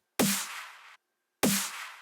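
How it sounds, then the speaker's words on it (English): A layered snare drum built from three stacked samples in a Bitwig Studio production, struck twice in isolation with a sharp, bright crack, a short low body thump and a noisy tail lasting under a second each. "The snare is layered of 3, so it sounds like this."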